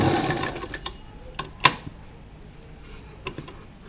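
A sewing machine stitches lace onto an A-line kurta: a short whirring burst at the start, then scattered sharp clicks and taps from the machine and fabric handling in a quiet room.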